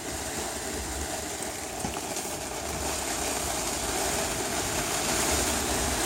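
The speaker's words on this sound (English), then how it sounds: "Boy, that rain is gonna do wonders for the desert." Steady rain falls over the desert near Ajo, Arizona, a continuous hiss at even loudness throughout, with a faint low rumble beneath and no voices.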